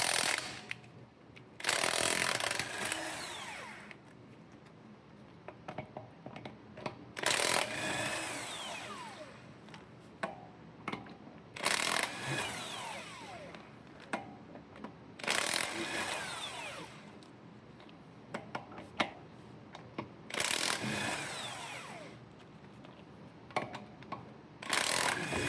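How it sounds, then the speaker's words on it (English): An impact wrench spins 21 mm lug nuts off a Ford Expedition wheel in four or five loud, rattling bursts. Each burst lasts a second or two, with quieter gaps of clinking and handling between them. "an impact wrench is really handy on these"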